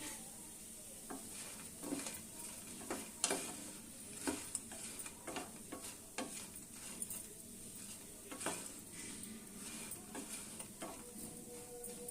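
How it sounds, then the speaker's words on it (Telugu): Karapu undralu frying in oil until brown while being stirred, a steady close sizzle broken by repeated scraping and clinking stir strokes throughout, with no talking. "ఇలా బ్రౌన్ కలర్ వచ్చే వరకు వేయించుకోవాలి"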